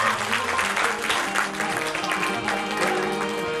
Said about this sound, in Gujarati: એવી તાળીઓ પાડો